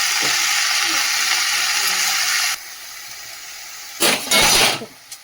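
Ridge gourd frying in a pan with salt and turmeric gives a loud, steady sizzle that drops to a low hiss midway, then flares into brief bursts of crackling near the end.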